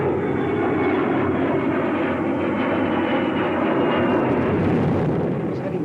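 A fixed-wing aircraft approaching an airfield, its engine a loud, steady roaring drone that holds strong and even for the whole stretch, with no voices over it.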